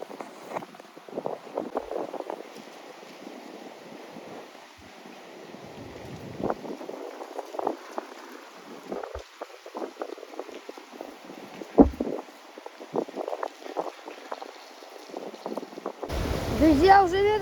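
Stormy sea during a cyclone in Yalta, with wind of 30 m/s and snow: rough surf and gusting wind buffet the microphone in uneven surges, while someone talks over the roar.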